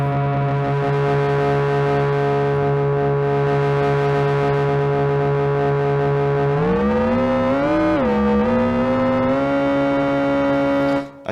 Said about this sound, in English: some of the ring mods just sort of add a bit of distortion and some octaves and stuff